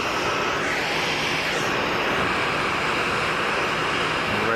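Aircraft engines at Geneva Airport, a broad, steady roar of jet noise at a distance that swells slightly, with no talk over it.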